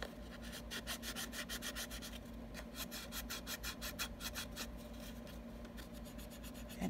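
Bone folder rubbed firmly along crease lines in card stock for a geode box, a close, steady run of rapid scraping strokes with no voices.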